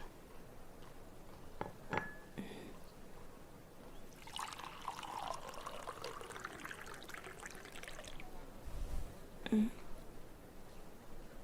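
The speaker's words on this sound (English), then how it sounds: "Let me pour you a cup." Tea is poured into a cup and makes a soft, quiet trickle that lasts a few seconds. A couple of gentle clinks of china come before and after it.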